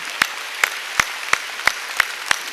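A church congregation at an Easter Sunday service claps in a steady, evenly spaced rhythm, seven crisp claps in under three seconds, heard alone and fairly loud.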